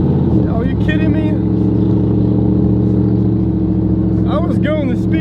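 A car passing close by on the road, its engine revving hard with a steady mid-pitched drone throughout and a voice speaking over it.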